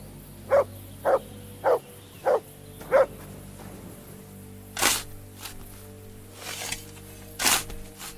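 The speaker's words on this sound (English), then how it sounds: "Good dog, Mats." Dog barking in a video game: five evenly spaced, punchy barks in a row, followed by a few scattered, louder sharper sounds later on.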